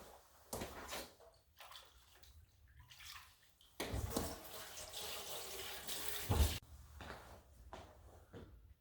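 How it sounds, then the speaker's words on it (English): Tap water runs into a kitchen sink as hands are rinsed, a steady broadband rush that swells loud for a few seconds, with a few sloshing bursts before it, then cuts off abruptly. "let me rinse my hands off really quick"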